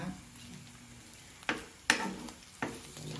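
Garlic and onion sizzle in a pan with longganisa, making a low, steady frying hiss close up. Several sharp utensil clanks against the pan punctuate the hiss at irregular moments.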